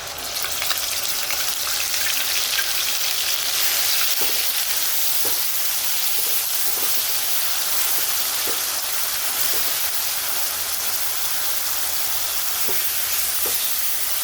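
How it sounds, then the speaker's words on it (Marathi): Onion paste sizzling and frying in hot oil with cumin and mustard seeds for dhaba-style masala bhindi, a steady loud crackle with occasional spoon stirs and scrapes against the pan. "आपण आता ही कांद्याची पेस्ट टाकून घेणार आहे"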